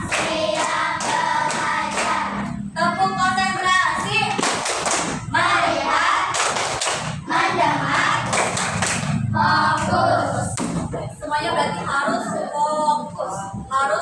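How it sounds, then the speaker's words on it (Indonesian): Children in a primary school classroom clap in rhythmic bursts of quick, sharp hand claps, counted out in Indonesian, alternating with loud group chanting voices close by. "tepuk 1, tepuk 2, tepuk 3, tepuk 4"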